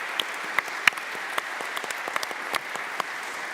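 Audience applause at an evening church gathering at the Cathedral Church of St. Luke, a steady, moderately loud wash of many hands clapping with a few sharper individual claps standing out.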